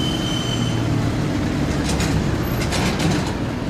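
A London tram rolls past with a constant heavy rumble and bursts of metallic wheel squeal, loud and close throughout without any voices.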